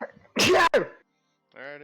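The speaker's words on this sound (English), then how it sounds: "Bless you, whoever sneezed so loud." A loud, close human sneeze bursts out in two sharp parts, followed by a short spoken remark after a pause.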